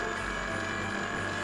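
Internal parts of a Beautyinus Bodyfixel Musclegun massage gun rattling as it runs, a continuous buzzing mechanical drone with a faint loose ratcheting clatter, close and steady without pause.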